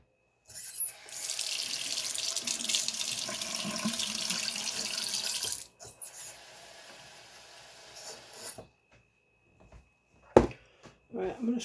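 Water running and pouring steadily into pancake mix in a home kitchen, a continuous splashing stream for several seconds that then stops, followed by a few soft clinks and handling noises.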